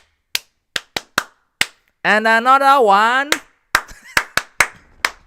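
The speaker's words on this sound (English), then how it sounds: "Hey, everybody, let's clap for him." A group of people clapping in a room during a live trading session, sharp separate claps in short bursts at the start and end, with a person talking loudly in between.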